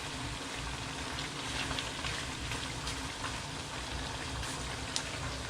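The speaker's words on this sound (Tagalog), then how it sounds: "Hayaan muna nating medyo maprito-prito siya." Duck pieces sizzle and bubble steadily in a pan while frying for Kapampangan-style kaldereta, a constant close hiss of hot oil with small pops and no talking.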